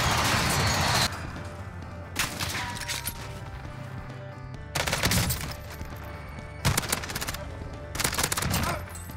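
Bursts of automatic gunfire in the battle royale game Call of Duty Warzone, several loud rapid volleys separated by short pauses, with no talk over them.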